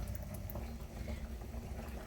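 Fish curry gravy bubbling and reducing in a pot during a late-night home cooking session, a steady close-up simmer that holds constant and unbroken throughout with no voices.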